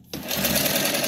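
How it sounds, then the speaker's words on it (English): A sewing machine driven by a digital servo motor starts abruptly and runs at full speed, a loud, steady, close whirring hum with rapid needle chatter throughout. "normally I sew this like this, full speed, right?"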